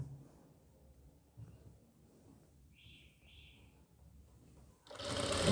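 Sewing machine stitching piping on a kali kurti, a faint low rumbling run of stitches with a brief chirp in the middle, ending in a sudden loud rushing burst.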